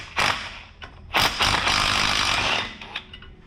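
A power tool, likely an impact wrench, removes 13mm bolts from the rear axle mount of a 2018 Jeep Wrangler, with two loud rattling bursts, the second longer, followed by faint clinks.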